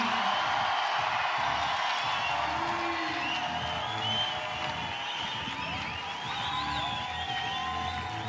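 A crowd at a climbing lead final in Briançon, 2023, cheering and whooping with rising shouts and whistles in a steady roar, while a commentator talks over it.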